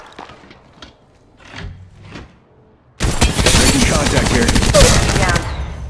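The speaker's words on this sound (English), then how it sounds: "Opening fire." Rapid bursts of gunfire in the mobile battle royale game Apex Legends Mobile, loud and dense, erupting abruptly after a few seconds of quieter, sparse game sounds and continuing without pause to the end.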